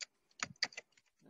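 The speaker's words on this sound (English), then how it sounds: "okay, let me type it." Several light, quiet keystrokes on a computer keyboard tap out in a brief irregular run, close by and with no voices over them.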